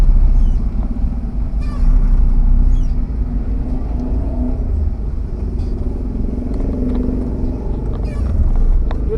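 Road traffic hums around a vehicle nearing a busy, crowded area with cars parked along the way; a low, steady engine and tyre rumble runs throughout, with faint voices and brief higher noises on top.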